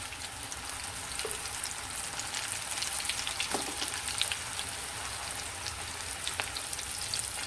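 Pointed gourd (parval) sizzling in hot oil with a pinch of asafoetida, a steady close crackle and hiss with a few sharper pops, no voices.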